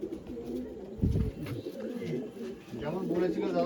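Pigeons at a pigeon sale and show coo in low, repeated murmurs, close by, with a brief thump partway through.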